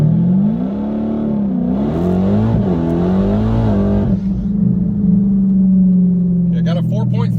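Dodge Challenger Scat Pack in 700-horsepower mode launching in second gear from a standstill, a loud engine roar climbing in pitch, easing briefly, then climbing again before settling into a steady drone, with a voice speaking at the end.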